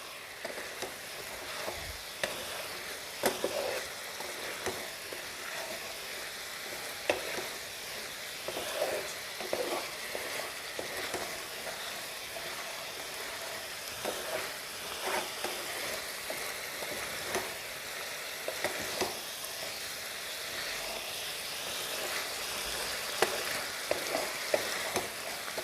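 Chicken cheese balls (koftas) frying in hot oil, a dense continuous sizzle and crackle with frequent small pops and occasional stirring scrapes, close and steady for the whole stretch, no talking.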